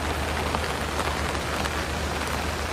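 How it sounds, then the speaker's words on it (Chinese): Heavy downpour in southern Taiwan during a stalled-front storm, a dense, unbroken roar of rain pounding hard surfaces, loud and close with no voices throughout. "瞬间强降雨让南台湾灾情频传"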